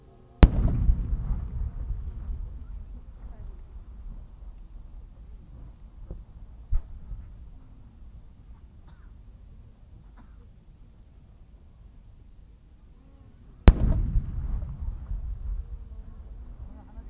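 Two loud firework bursts, one at the start and one near the end, each followed by crackling and rumbling decay, with a faint pop between, at the 2020 Sanriku fireworks festival in Japan.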